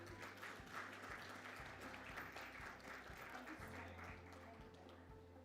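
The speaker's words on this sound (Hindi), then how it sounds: "Give a huge round of applause for Ms. Shefali Shah." Audience applause at a public dialogue event, a moderate, continuous clapping from a crowd heard at a distance over a low electrical hum.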